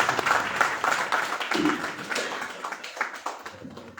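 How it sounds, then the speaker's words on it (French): An audience at a media monitoring inauguration applauds, giving moderately loud, uneven clapping from a gathered crowd with some individual claps standing out. "Je vous demande de bien vouloir applaudir nos amis marocains"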